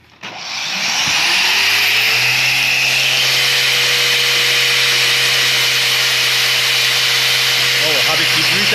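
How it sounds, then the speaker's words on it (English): An angle grinder spins up from rest and holds a loud, steady, high whine close to the microphone, staying continuous for several seconds. "Let's do the angle grinder again."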